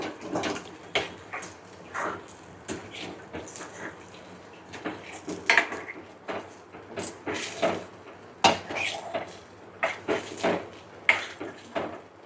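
A spoon scrapes and clinks against a pan while spicy kara chutney is stirred and sautéed, the sharp metallic knocks coming irregularly, close and fairly loud.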